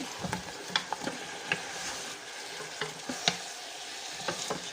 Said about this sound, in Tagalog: magluto ako ng karne